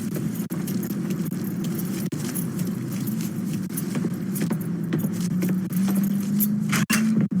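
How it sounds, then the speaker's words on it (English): Keys picked up and jangling in the video game Mafia 3, a brief metallic jingle over a steady low vehicle engine hum that runs throughout. "Lincoln, pick up the keys"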